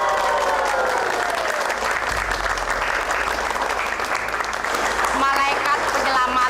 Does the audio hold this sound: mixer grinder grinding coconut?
no